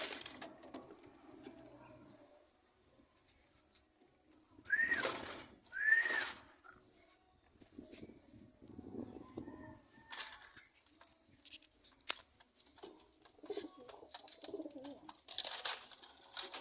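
Pigeons coo softly during a feeding, with a few louder bursts of wing flutter and scuffling up close against a quiet background.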